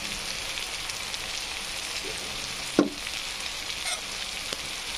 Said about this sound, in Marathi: तर छानपैकी असे मसाले फ्राय झालेले आहेत आपले